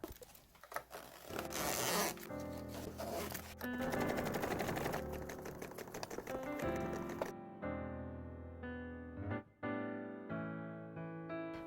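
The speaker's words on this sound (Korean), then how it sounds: "지퍼 노루발로 교체하고 지퍼의 시접과 노루발의 이쪽 시접이 닿도록 주의 깊게 보면서 박음질하면" A sewing machine fitted with a zipper foot stitches a zipper onto waterproof fabric for a Boston travel bag, giving rapid mechanical needle clatter in bursts with short pauses, then a quieter, slower run of stitching near the end.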